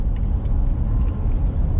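A 2020 Volkswagen Amarok Canyon, a big, heavy, powerful pickup, being driven, giving a steady low engine and road rumble close inside the cab, continuous and even throughout.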